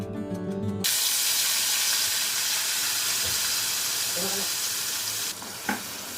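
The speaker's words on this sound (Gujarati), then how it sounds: "હવે આપણે આ ડુંગળીને તેલમાં સાતડવાની છે" An onion, garlic, ginger and chili paste hits hot oil with a sudden loud hiss that settles into a steady, dense sizzle, with a few stirring knocks near the end.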